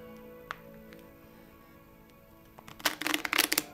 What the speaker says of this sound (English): I'm even going to have the spectator shuffle